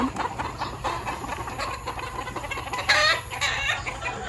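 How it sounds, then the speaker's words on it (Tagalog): Several chickens cluck and squawk close by, a busy overlapping flock with a louder burst of calls near the end, over a low steady hum. "Daming manok."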